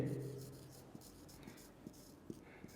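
Pen or chalk strokes during a Class 10 maths lecture, a few short scratchy marks spaced about half a second apart, faint beneath steady room noise after a brief voice at the start.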